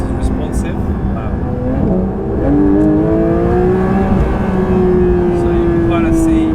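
A Porsche 992 GT3 engine revs on an open road from inside the car, its tone climbing steadily in pitch over a constant rumble of road noise.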